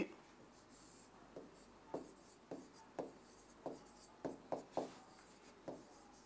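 Chalk or marker strokes on a classroom board, a series of short, distinct scratching taps at irregular intervals, close and fairly quiet, with no speech over them.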